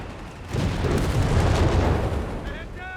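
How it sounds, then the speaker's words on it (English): Artillery in Company of Heroes 3 strikes with a deep, rumbling boom that swells and sustains for about two seconds, loud and close, followed by tonal battle effects near the end. "Artillery fired on the Panzer Grenadiers from the Scott and the EC8."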